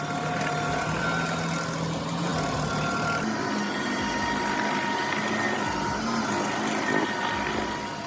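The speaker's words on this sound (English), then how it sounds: "The Rayco RG80 revolutionizes land clearing with its high-torque engine and precision cutting head" A Rayco RG80 stump grinder's high-torque engine runs steadily at a low, rumbling idle, moderately loud and continuous with outdoor background noise and no voices.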